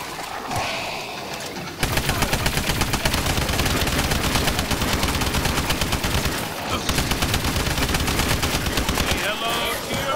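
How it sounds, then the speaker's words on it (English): Laser LMG in the game ExoZombies firing long, sustained streams of rapid, evenly spaced shots, loud and close, with one short pause between the two bursts. "I think this is like the laser LMG. Because it shoots about the same speed."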